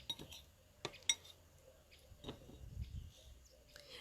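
Stuffed mushroom filling being mixed with bread in a bowl in a Sicilian home kitchen: a few sharp clinks of a utensil against the bowl, then soft scraping and stirring, faint and close.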